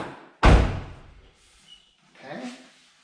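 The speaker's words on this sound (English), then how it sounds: "That's just the door check." A car door's check strap clunks as the door swings during rust repair work, giving one loud close thud followed by a fainter knock and a softer low clunk with light movement noise.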